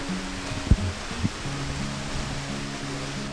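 A waterfall in the Yedigöller forest area makes a steady, fairly faint broadband rush, as if heard from a distance, with a couple of soft thumps near the start and a low hum underneath.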